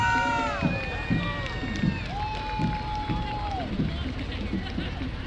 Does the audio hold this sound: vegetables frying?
no